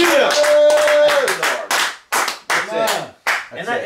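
Several people clapping hands in bursts at an outdoor street preaching gathering in Dayton, loud and close, with sharp rhythmic claps broken by brief pauses and a voice calling out over them.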